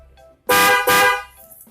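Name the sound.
snail-shaped motorcycle horn honking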